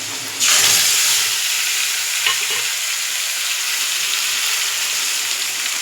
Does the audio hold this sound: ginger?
yes